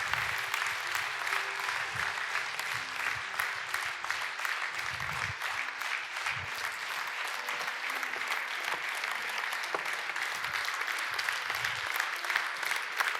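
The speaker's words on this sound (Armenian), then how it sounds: "Եկեք ծափարենք իրանց" A church congregation applauds steadily and densely for the whole stretch, a continuous wash of many hands clapping at even loudness, with low rumbling sounds and a few faint voices underneath.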